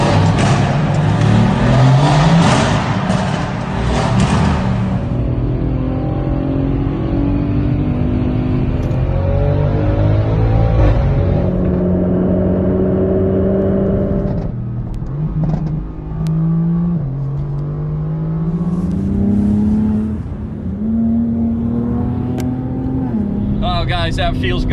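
Ferrari 458 downshifting and accelerating past a Prius, engine revs climbing in repeated rising sweeps with gear changes between them, loud and close from inside the car, with talk mixed in.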